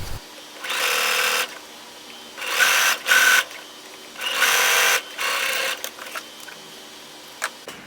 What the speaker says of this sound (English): you're going to top stitch on one side of the seam